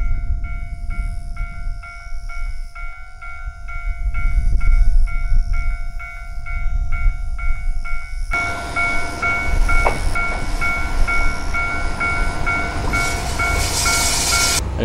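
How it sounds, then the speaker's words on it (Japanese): A rapid train on the Soya Main Line in Hokkaido, using cars formerly run as the Sarobetsu limited express, heard from inside: a steady rumbling run with a repeated onboard chime pattern early on, then louder wheel noise and rattling. "これは特急用の車両を使っています。"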